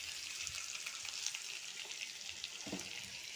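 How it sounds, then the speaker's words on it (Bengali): Fried potatoes in a pan for an egg omelet curry, a faint steady sizzle with a few soft stirring knocks as spices go in. "আলুটা লাল করে ভাজা হয়ে গেছে, এবার মশলাগুলো দিয়ে দেবো।"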